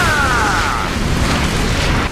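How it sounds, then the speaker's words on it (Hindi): Explosive blasts from a cartoon attack, a dense, loud booming burst that rolls on for about two seconds before cutting off, with a brief whistling tone at the start. "ये आवाज और धमाके से दोहरा हमला करते हैं।"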